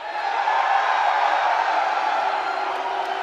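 A large live crowd at a UFC 285 pre-fight press conference in Las Vegas cheers and whoops in a steady, loud, dense roar that holds throughout with no pauses.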